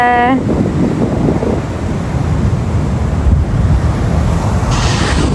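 Steady wash of rough surf and wind noise at a beach fills the whole stretch, broad and continuous, with a brief voice-like tone at the very start.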